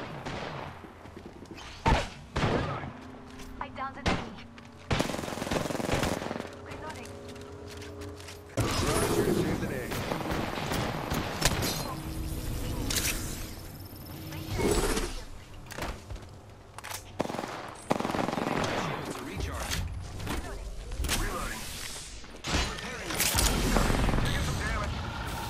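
Shotgun blasts and mechanical weapon handling sound in Apex Legends Arenas, with bursts of loud sharp shots scattered among clicks and movement noise.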